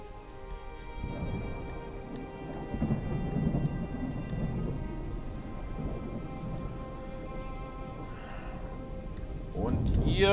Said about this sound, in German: Einmal aktivieren, damit das Gewitter verschwindet.